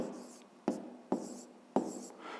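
Pen writing an answer by hand on paper, soft scratchy strokes broken by three distinct taps or pen lifts in a close, quiet room.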